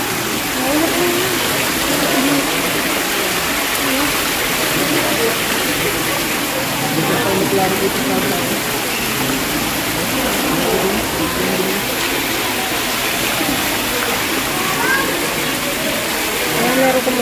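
Water runs in a steady, continuous splashing gush as someone fetches holy water at the Padre Pio church in Batangas, with faint voices in the background.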